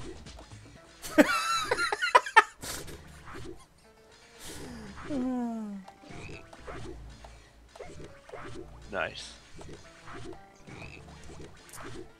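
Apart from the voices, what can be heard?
frogs croaking in Battleblock Theater video game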